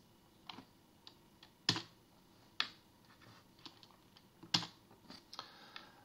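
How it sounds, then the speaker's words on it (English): A password is typed on a computer keyboard: sparse, quiet key clicks tap out at an irregular pace, with a few sharper, louder strokes standing out. "on the value, type your password"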